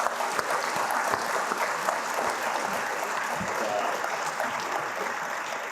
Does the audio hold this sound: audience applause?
yes